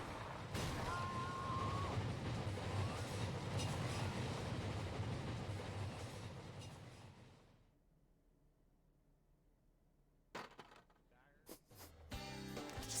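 A loud, rumbling train in the video game My Summer Car roars past for several seconds and fades away, followed by quiet and a few sharp knocks and clatters.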